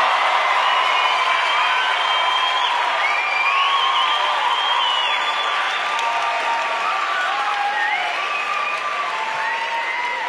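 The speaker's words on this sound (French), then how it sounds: "Applaudissons bien, bien, bien, bien fort." Steady applause from a large audience, dense and continuous throughout, with some whistling and cheering mixed in.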